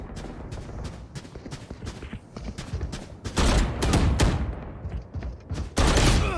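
Gunfire in the Valorant video game, repeated sharp shots in quick bursts, close and loud, building into dense volleys during the later half.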